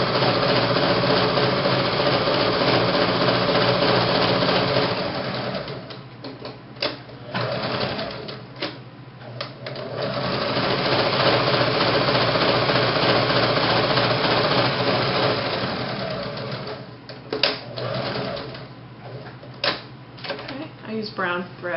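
A sewing machine stitches a buttonhole on a boutique top or dress with brown thread. Its loud, steady mechanical whirr runs almost continuously, with short pauses and starts.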